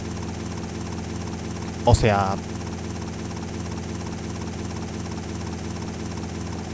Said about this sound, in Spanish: estamos con un helicóptero disparando, destruyendo autos, matando gente en el aeropuerto